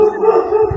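Dogs howling and yelping in the background during a live broadcast from a No Kings protest in America, a continuous wavering howl lasting under a second, moderately loud.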